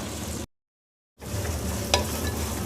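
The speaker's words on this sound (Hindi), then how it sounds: "अब हम इसको उस वक्त तक फ्राई करेंगे जब तक कि प्याज का कलर थोड़ा सा चेंज ना हो जाए" Onions frying in hot oil in a kadai, a loud continuous sizzle cut by a brief silent gap, then resuming with a sharp spatula scrape.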